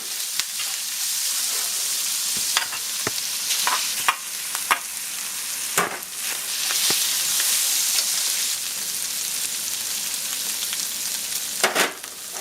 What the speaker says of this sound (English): You're going to stir that around and then add the eggs.